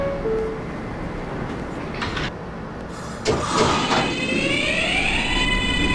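Simulated J subway train in OpenBVE at a station: a door chime, the doors sliding shut with a thud, then the motors whining up in rising tones as the train pulls away, over constant rumble.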